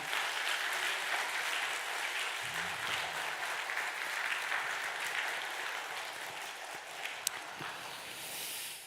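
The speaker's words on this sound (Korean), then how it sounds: "하나님께 감동의 박수를 올려드립니다" A large church congregation claps steadily for several seconds during a Sunday worship service, a broad wash of applause that holds throughout, with no voices over it.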